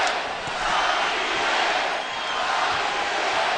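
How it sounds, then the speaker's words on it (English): A packed boxing arena crowd of over 14,000 roars and chants for their homegrown world champion, a loud, sustained wash of voices swelling and dipping slightly. "listen to this crowd as they chant for their homegrown world champion"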